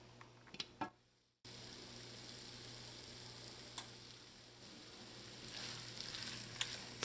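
Curry seim beans and potato cook in a pot, giving a soft, even sizzling hiss that runs steadily after a few light clicks and a short quiet start.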